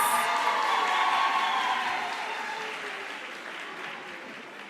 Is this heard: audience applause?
yes